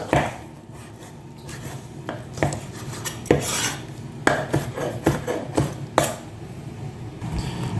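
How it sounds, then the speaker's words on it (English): Pork belly is sliced into strips with a knife on a cutting board, producing irregular close knocks and scraping taps of blade on board in a quiet kitchen, with no talking. "I'm just going to cut this up into strips."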